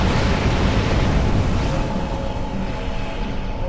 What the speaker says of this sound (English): More torpedoes away!